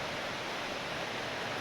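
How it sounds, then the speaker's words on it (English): Heavy rain roars as a dense, steady hiss with no breaks, loud and close, with no voices or other sounds standing out. "Sorry about the rain, it's loud"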